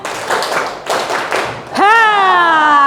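Schoolchildren in a classroom clap together in three quick bursts, a loud patterned group clap, followed right after by a single sustained voice.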